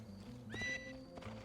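A horse neighs briefly in the Assassin's Creed II video game, a short high whinny over soft hoof clip-clops and game background sound.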